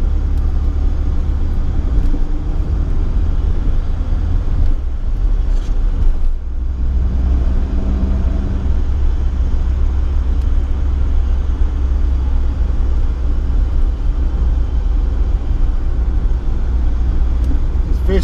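A 1987 BMW E30 M3 on a road test, its engine and tyre rumble steady and loud from inside the cabin, a continuous low drone with slight shifts in tone and no talking.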